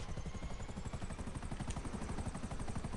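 A security helicopter in a video game flies with a continuous, rapid rotor chop and engine drone, steady and fairly quiet throughout.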